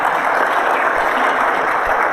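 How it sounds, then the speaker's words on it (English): Audience applause at a CBMC gathering, a steady, dense wash of many hands clapping close and loud throughout, with no talk over it. "You almost need to give yourselves a round of applause for it."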